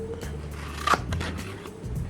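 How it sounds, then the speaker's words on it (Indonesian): Ordinary scissors cut through a paper envelope with a single crisp snip near the middle, set against a quiet room. "Ini kita pakai gunting biasa."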